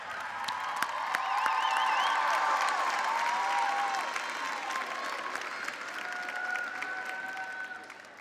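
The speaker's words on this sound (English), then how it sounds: "will you please stand and face the graduates so they can cheer for you?" Graduates at a commencement ceremony cheer and applaud their faculty and staff, a steady roar of clapping mixed with whoops and shouts that swells and holds before slowly tapering off.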